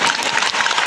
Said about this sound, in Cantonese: 俾啲掌聲香港女青